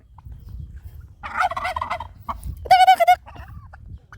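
Turkeys gobble in two bursts, a fluttering rattle followed by a louder, tighter gobble, with quiet outdoor background between calls.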